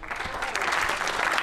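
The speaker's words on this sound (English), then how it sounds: "That does deserve an applause" Brief burst of audience clapping at a film festival Q&A, dense and moderately loud with a few voices mixed in.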